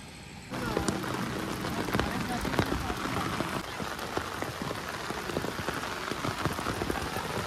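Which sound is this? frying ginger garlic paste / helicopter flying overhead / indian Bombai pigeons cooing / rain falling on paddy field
rain falling on paddy field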